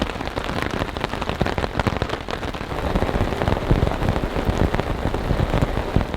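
Steady, dense rain pattering loudly on a taut tent surface close by, constant drumming with no pauses and no voices.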